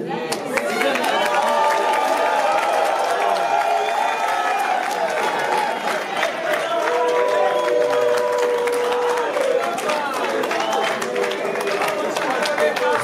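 Loud crowd applause and cheering at a solemn political investiture of a presidential candidate in the Democratic Republic of Congo, steady dense clapping mixed with voices and whistles throughout.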